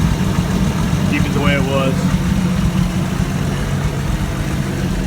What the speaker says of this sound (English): that exhaust you're hearing is just because of I've only got it coupled